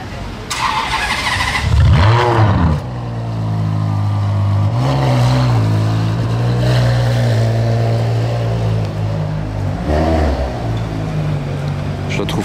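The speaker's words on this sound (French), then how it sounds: "il coupe le moteur, donc on a droit à un démarrage des voituriers" A Ferrari engine in Monaco is started by valets, cranking and firing into a rising rev, then settling into a steady low idle with a couple of throttle blips, while people talk over it.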